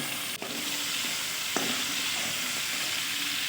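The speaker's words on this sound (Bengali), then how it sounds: "তো দেখো আমার কিন্তু চিংড়ি মাছটা ভাজা হয়ে গেছে" Shrimp fry in a pan with a steady, bright sizzle. A few sharp clinks of stirring rise above the hiss.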